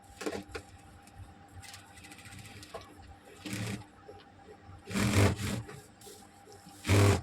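A sewing machine stitching a stone-worked boat-neck princess-cut blouse runs in short bursts, with a couple of louder whirring runs near the end over a quiet room.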